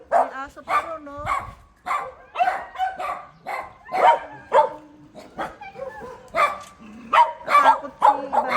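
A group of dogs in La Trinidad, Pico, Baguio City gives repeated sharp barks and yips in a steady run of bursts, close and fairly loud, with some voices nearby.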